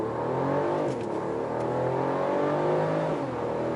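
A car accelerates hard at full throttle in Sport Plus mode, its engine note loud and steady as it climbs through the revs for nearly four seconds with no talking.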